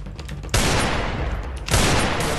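Heavy bursts of gunfire in a shooting video game, two loud dense volleys of rapid shots close up with a brief lull between them.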